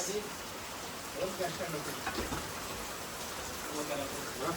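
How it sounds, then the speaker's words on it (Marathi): Steady rain hisses across the whole stretch in the Konkan region of India, a broad even wash of falling water during house repair work, with faint voices murmuring underneath. "पाऊस चालू झाला काम चालू आहे उगाच पाऊस"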